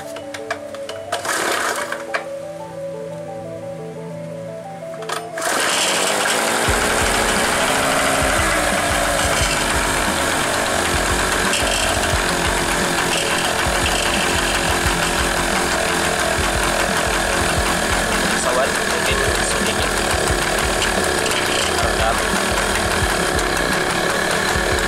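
A small two-stroke generator engine without an added muffler starts after a few seconds and runs steadily at a loud, buzzy, high idle for the rest of the clip, with no voices.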